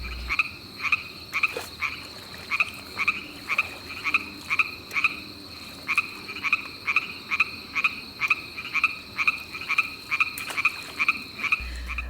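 Bullfrogs croak in a steady rhythmic series of deep, resonant calls, about two per second, loud and close, with no voices.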